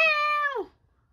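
A single cat meow, clear and fairly close, with a steady tone that slides downward and ends abruptly, followed by near silence.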